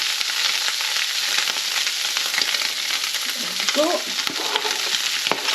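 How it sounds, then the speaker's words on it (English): Onions and chilies fry in hot oil for shakshuka, a steady broadband sizzle running the whole time with some stirring scrapes; a person speaks briefly near the end. "So need some moisture in there for the onions and the chilies anyway. So we're going to get them put in now."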